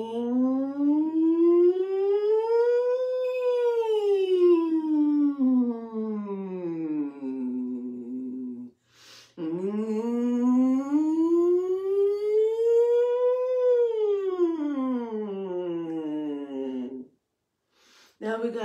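A voice imitates an air raid siren, sliding its pitch smoothly up and down in two long sustained wails separated by a short breath.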